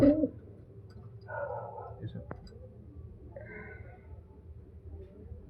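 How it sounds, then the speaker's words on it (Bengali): Pigeons coo in soft, low hoots near at hand, a few faint calls spaced out beneath a voice. "এই হচ্ছে পায়রা"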